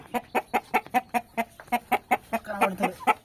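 Chickens clucking inside a village coop, a steady, regular run of about fifteen short clucks close by, growing a little busier toward the end.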